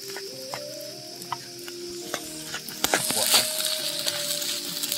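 Nasi goreng fries in a pan over a camp stove on an outing to a waterfall in Aceh, giving a continuous crackling sizzle broken by scrapes and stirring clatter, with faint background voices.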